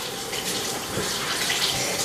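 Water runs steadily from a sink faucet as a continuous close, fairly loud broadband hiss and splash that holds even for the whole stretch, with no talking over it.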